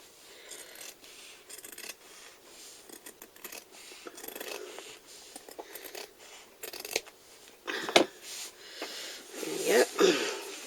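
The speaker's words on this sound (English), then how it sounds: "I'll just have to make sure I cut it nice, though. You just trim this off to fit." Scissors trimming material to fit while altering a bag, a series of close, soft snipping and rasping cuts under quiet background, growing louder near the end.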